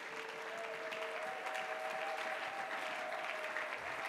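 A church congregation breaks into steady, sustained applause, many hands clapping together at moderate distance, with a faint held tone underneath and no speech.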